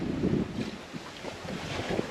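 Steady wind rushing across the microphone aboard a sailboat under sail in a light breeze of about nine knots, a constant loud buffeting roar with faint water wash beneath it.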